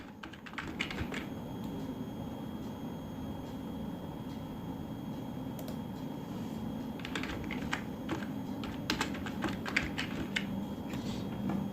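Someone types a name into an online e-stamp paper form on a computer keyboard, with quick bursts of close key clicks separated by brief pauses over a low steady room hum.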